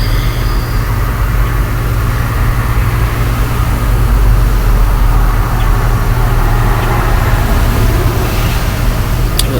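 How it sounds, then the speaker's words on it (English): Steady road traffic rumbles past at a distance, a continuous low drone of cars and heavier vehicles with no single pass standing out. "looking at the vehicles passing by"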